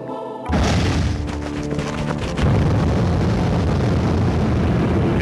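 Explosions from the video game Trembler play over a speaker after a brief silence: loud, continuous booming rumble with thuds and blasts, a fresh heavy burst hitting about halfway through.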